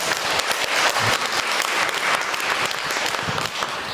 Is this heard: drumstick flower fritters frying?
no